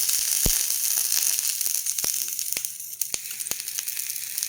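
Butter sizzling in a hot pan under a ragi uttappam, a loud, dense hiss with sharp clicks and pops scattered through it, close and continuous.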